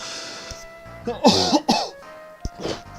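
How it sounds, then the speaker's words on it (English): A man coughs and clears his throat in a few rough, close bursts, with short pauses between them and a faint background hum. "I do apologise, guys, for the potential, for the coughing and everything else and stuff."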